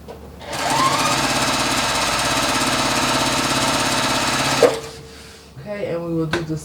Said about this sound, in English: sewing that with the 1/4 inch seam.